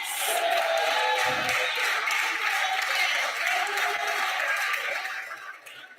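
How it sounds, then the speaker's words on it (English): A dense round of applause fills the National Council of Provinces chamber, broad and continuous from many hands at moderate distance, then tapering off toward the end. "Can we give the doctor a round of applause?"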